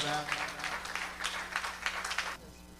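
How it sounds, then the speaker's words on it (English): Applause from an audience at a Father's Day event, a broad wash of clapping that swells and fades for a couple of seconds before cutting off, with a faint voice underneath. "Give her a round of applause"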